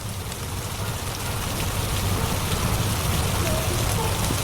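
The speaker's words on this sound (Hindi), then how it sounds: "बारिश अभी भी नहीं रुकी।" Heavy rain pours down steadily outside a poor family's home in an animated story, a dense close hiss of drops on surfaces that holds constant throughout.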